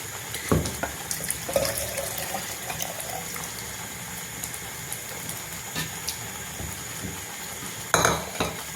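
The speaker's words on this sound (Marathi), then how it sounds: "आपल्याला किती पाणी लागतं तेवढं पाणी टाकू आता आपण" Water added to a pot of tomato saar, a soft trickle and pour close by with light clinks and stirring of utensils, a few sharper knocks standing out, no voices.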